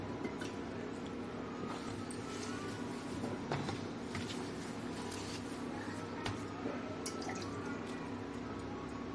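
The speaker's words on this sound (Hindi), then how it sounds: "अभी हम इसमें थोड़ा सा पानी और ऐड करेंगे।" Water is poured and dripped into semolina dough for golgappe, giving faint liquid trickles and small wet squishes over low background noise.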